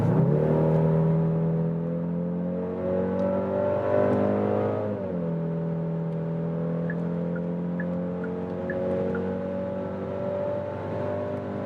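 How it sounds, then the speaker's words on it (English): A Genesis GV70 in sport mode with enhanced engine sound accelerates hard from 90 km/h, giving a steady, loud, rising engine drone heard from inside the cabin, with a brief dip at a gear change before it climbs again. "set to sport mode and also enhanced sound, and yeah, that just sounds more spectacular"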